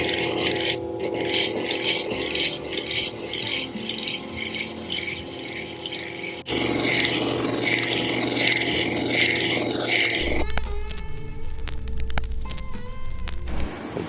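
A silver ore cabochon is polished on a flexible, rubber-backed 1200 grit diamond pad, giving continuous close scraping and rubbing strokes that shift in tone across three stretches, with no voices.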